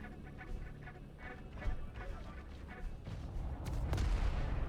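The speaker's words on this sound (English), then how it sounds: "Ooh, grenades coming out, and more nice grenades from YED" Grenades burst during a Diabotical tournament match, a string of dull booms and cracks layered with rapid weapon fire, growing louder and denser toward the end.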